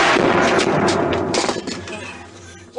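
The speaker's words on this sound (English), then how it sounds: "I just fucking shot myself." A single loud, close Glock 23 pistol shot, fitted with a 33-round magazine, cracks at the start and leaves a long ringing decay that fades into quieter shuffling.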